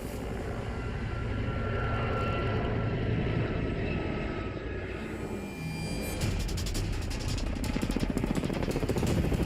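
Two Mi-8 military helicopters roar at a steady loud level, their rotor and engine drone continuous, then a rapid rhythmic blade chop grows stronger and closer toward the end.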